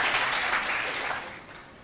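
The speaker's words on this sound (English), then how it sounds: "Please give them a big round of applause." A school quiz audience applauds the competing teams in a brief, dense burst of clapping that fades gradually toward the end.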